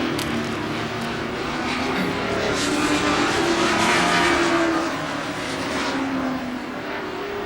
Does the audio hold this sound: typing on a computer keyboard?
no